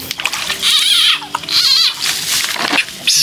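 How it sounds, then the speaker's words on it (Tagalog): Field frogs calling at night by a fishpond, loud close rasping croaks in repeated bursts with brief gaps between them. "Niiyak ng palaka."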